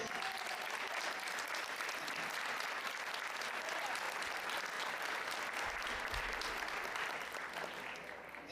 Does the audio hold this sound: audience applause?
yes